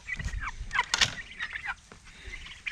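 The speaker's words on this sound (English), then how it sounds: "They're so cute when they start gobbling." Turkeys gobbling in a backyard flock of mixed hens and toms, including Black Spanish and Blue Slate birds, with repeated rattling gobbles overlapping and other birds calling close by.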